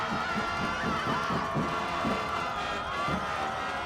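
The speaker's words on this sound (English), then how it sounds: "Crowd getting back into it here" A crowd at a high school football game, Berwick against Dallas, keeps up a steady roar of cheering in the stands, with rhythmic pulses rising through the din.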